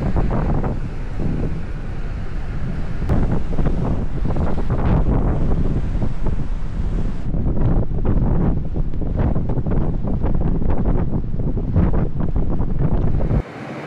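Strong wind buffets the microphone on an open ferry deck at sea approaching Tórshavn in the Faroe Islands, a continuous heavy roar and rumble with gusty surges and no voices.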